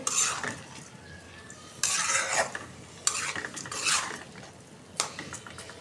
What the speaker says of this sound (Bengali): এক পট চাল একটু ভাইজা নিতেছি ভালোভাবে